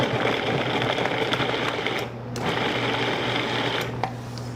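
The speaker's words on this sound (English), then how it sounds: "let's go ahead and run the food processor until it's kind of like cornmeal" A food processor runs to cut pie crust ingredients with kosher salt down to a cornmeal texture, a loud steady motor whir with rattling, briefly dipping midway before carrying on.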